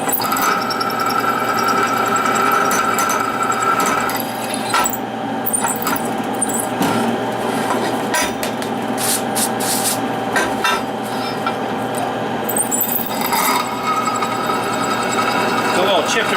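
A power drill grinds and crunches steadily through a mini excavator bucket, chips crunching in the hole with no lubricant spray, a gritty, uneven whine that briefly drops and returns.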